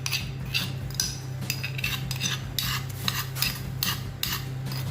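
Spice paste for sayur lodeh scraped from a stone mortar into a cooking pot: a run of short, gritty metallic scrapes and taps in quick succession, close and fairly loud, over a steady low hum.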